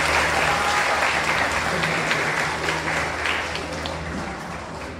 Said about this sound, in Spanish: profesor Luis Enrique López González, también le pido un fuerte aplauso